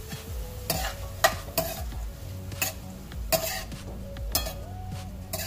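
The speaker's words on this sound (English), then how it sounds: "I'm gonna add in my vegetable stock" Vegetable stock goes into a hot pan of sizzling vegetables for a Jamaican-style mushroom stir-fry, making a steady close sizzle broken by the clinks and scrapes of a stirring utensil.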